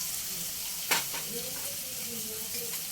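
Capsicum, onion and tomato fry with spices in a pan, giving a steady close sizzle, with one brief sharper crackle and stirring around the first second.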